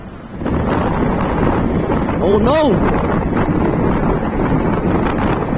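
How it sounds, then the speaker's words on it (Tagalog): Strong wind in bad weather at Tagaytay roars and buffets the microphone throughout, with a brief startled shout partway through. "Ang lakas ng hangin"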